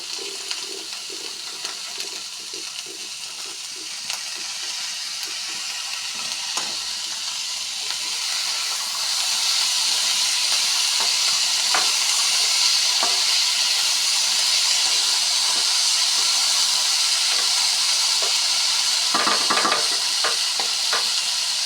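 Potatoes and moong beans frying in a pan, a continuous bright hiss of hot oil that thickens and grows louder partway through, with scattered soft stirring clicks and no talking.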